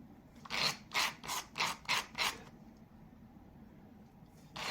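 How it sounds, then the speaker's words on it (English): Six even rasping strokes of sandpaper on the edges of brass pieces for a kaleidoscope, close and fairly quiet, followed by near silence and a faint final scrape. "you need to sand off the edges of your brass."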